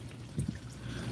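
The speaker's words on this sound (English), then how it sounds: "That water that you're hearing is the condensation from the AC." Condensation water from the air conditioner of a 19 ft Airstream camper, Tommy Bahama Relax Edition, trickles and drains in a quiet, faint stream, with a low steady hum beneath and a couple of slightly louder splashes.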